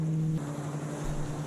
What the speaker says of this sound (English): Powerboat, you are on my shit list.